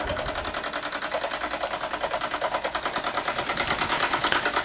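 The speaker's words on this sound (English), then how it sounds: "I think that about covers it for the little M81 micro beam engine." A Microcosm M81 micro beam model steam engine runs steadily nearby, its rapid, even chuffing and mechanical clatter repeating several times per second without pause, with no voices over it.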